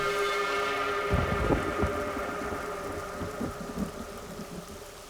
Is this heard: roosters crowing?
no